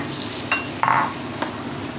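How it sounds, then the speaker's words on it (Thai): Chili with a little water sizzles and scrapes in a hot pan as it is stir-fried, with a few sharp clinks of a utensil against the metal. "ผัดไปเรื่อยๆนะคะ"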